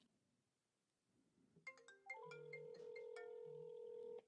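A simple mobile phone rings with an incoming call: after a faint quiet lead-in, a bright electronic ringtone melody starts and plays steadily and fairly loud before cutting off abruptly.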